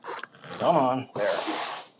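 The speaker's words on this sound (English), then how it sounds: "Long zippers are always a pain, but I think it did pretty good." A long zipper on a suitcase is pulled shut in two quick, rasping strokes, close and fairly loud, separated by a short pause.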